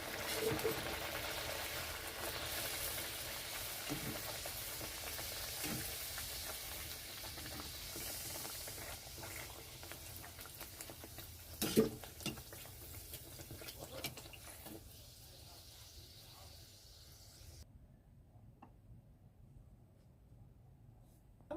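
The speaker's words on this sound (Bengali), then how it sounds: "তো এরকমভাবে এক এক করে ভেজে নিতে হবে।" Jackfruit seed kachoris sizzle in hot oil one by one, a steady frying hiss with occasional crackles and a louder burst midway before the sizzle fades and drops away near the end.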